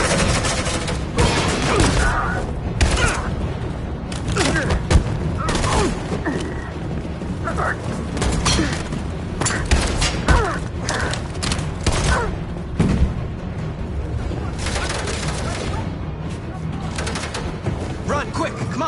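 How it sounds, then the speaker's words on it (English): Sustained suppressing gunfire in the video game Detroit: Become Human, dense bursts of rapid shots and booming impacts rolling continuously for nearly twenty seconds, loud and chaotic with shouted voices mixed in. "Suppressing fire!"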